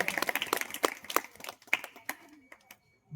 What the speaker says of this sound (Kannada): ಚಪ್ಪಾಳೆ ತಡಬೇಕು ಜೋರಾಗಿ